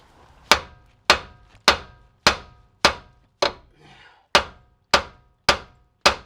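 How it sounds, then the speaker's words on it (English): A hammer strikes stuck front coilover bolts on a Nissan Altima with an SE-R swap, landing about ten sharp metallic blows at a steady pace with a short ring after each, close and loud, with no voice. "not having any luck hammering, these really are not budging"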